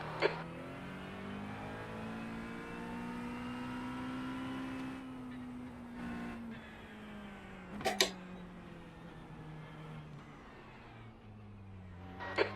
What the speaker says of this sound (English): Okay, Peter, there's a faster class car approaching